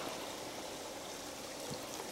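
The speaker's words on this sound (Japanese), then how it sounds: "せせらぎの音しかしないですからね。" A babbling mountain stream on Mount Takao's trail gives a soft, continuous trickle and wash of water, faint and steady with no voices.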